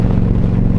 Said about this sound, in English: this bike's really got some torque to it